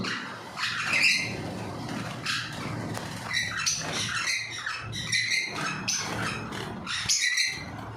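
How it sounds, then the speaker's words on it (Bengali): Many birds squawk and chirp continuously in harsh, overlapping bursts in an aviary during rain, close by and fairly loud, with no talking. "এখানেও কিছু ভালো কোয়ালিটির পাখি আছে"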